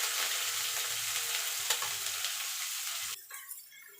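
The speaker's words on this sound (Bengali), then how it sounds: "আলুটা একটু ভাজা ভাজা করে নিচ্ছি, সজনার ডাঁটাটা দিয়ে দেবো" Potatoes and drumstick pieces fry in oil in a wok while being stirred, a close, loud, steady sizzle with scraping knocks of the spatula; the sizzle drops away abruptly near the end.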